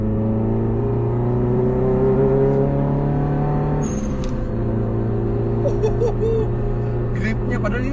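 A Subaru Impreza engine pulls hard under acceleration, a steady droning whine rising in pitch and then shifting after a gear change, heard from inside the cabin with a voice talking over it.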